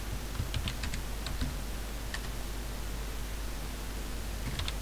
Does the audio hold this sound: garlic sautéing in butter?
no